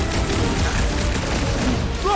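Fireworks in the Guardians of the Galaxy video game crackle and burst in a dense, continuous barrage of loud pops and booms, with game-world noise beneath.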